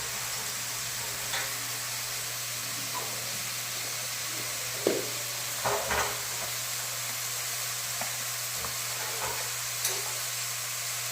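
Ghee and oil sizzle steadily in a pan for home-cooked fried rice, a continuous soft frying hiss with a few light clinks and stirring knocks over the top and no talking.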